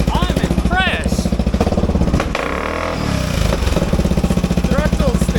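Red motorcycle known as the ankle breaker, its engine idling with a loud, fast, throbbing chug and a brief blip of revs midway, close to the microphone.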